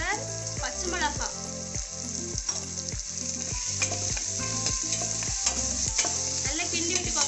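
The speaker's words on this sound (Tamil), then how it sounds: "நல்லா கிண்டி விட்டுக்கோங்க." Tomatoes and green chillies sizzle and fry in a pan while a spoon stirs them in steady repeated strokes, each scrape clear and close over a constant hiss.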